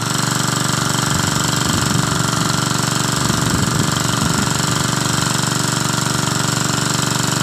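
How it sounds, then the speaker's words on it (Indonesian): Loud, steady mechanical drilling rumble with rhythmic pounding and engine drone from a borehole well drilling machine in a rice field, continuous throughout and close by. "Ini direncanakan membuat sumur bor ini direncanakan dengan kedalaman sekitar 40 meter ataupun 50 meter."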